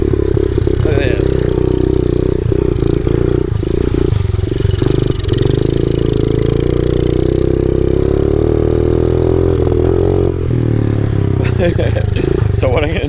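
A Honda CRF 50 dirt bike engine idles close by, a loud, steady buzzing drone with slight revving wavers, while a voice talks over it.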